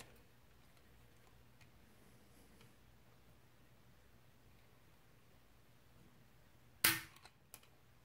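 A single sharp click as the trigger of an SS12 Hatfield shotgun is dry-fired during a trigger-pull test, followed by a couple of faint mechanical ticks in an otherwise quiet room.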